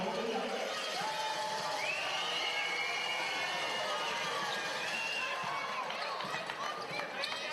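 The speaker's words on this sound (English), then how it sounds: "Crowd doing their best to deter Whittle" Arena crowd at a women's professional basketball game roars and jeers continuously while an opponent shoots free throws, with whistles and shouts over a steady wall of noise and a commentator talking over it.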